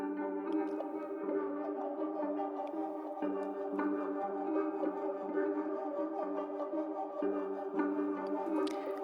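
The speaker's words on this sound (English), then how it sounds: "I added this texture from Arcade called Diminishing" A sustained electronic texture pad called Diminishing from the Arcade instrument, slowed to half time and treated with drip, shaper and reverb, holds layered tonal harmonics with soft pulsing shifts and occasional glitchy flickers, playing alone at a moderate level.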